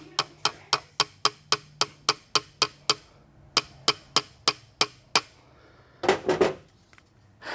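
A quick, even series of light, sharp taps from a light hammer on a dirt bike, about a dozen in a row, then a short pause and several more, followed by a brief scuffing noise.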